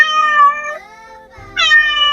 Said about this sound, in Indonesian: Suara mencakar, suara mengeong yang lembut.